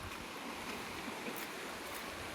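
Floodwater rushes along a flooded road like a river, making a steady broadband roar that stays continuous and fairly faint without any talking.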